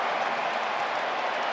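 Stadium crowd at a 2006 NFL game between the Cowboys and Falcons, a steady, dense roar of many voices reacting to a penalty flag, with no single voice standing out.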